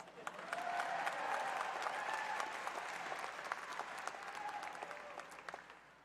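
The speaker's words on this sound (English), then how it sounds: "Now, he deserves a round of applause." Sustained audience applause at the Emerson College 2023 commencement ceremony, a broad wash of many hands clapping from a large crowd, steady for several seconds and then gradually thinning toward the end, with a few faint cheers mixed in.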